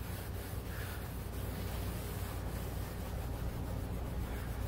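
Softened paint is rubbed and scrubbed off a boat hull, a steady close-up abrasive scraping and rasping that continues evenly throughout without any talk.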